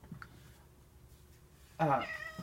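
A pet cat meows once, close and fairly loud, in a home kitchen where potato latkes are being cooked, following a quieter stretch of faint room noise.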